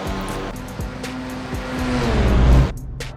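A race car in a sim racing video game crosses the finish line during a Danish e-sport national championship, its engine whining loud and steady, rising in pitch before cutting off abruptly near the end.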